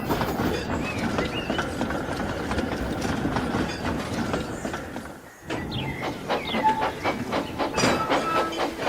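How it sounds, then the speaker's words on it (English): Steam engine Douglas chuffing through open countryside, a steady rolling clatter with hiss and rhythmic wheel noise close by, briefly dipping before resuming with faint whistle-like tones. "He chuffed dutifully through the beautiful countryside"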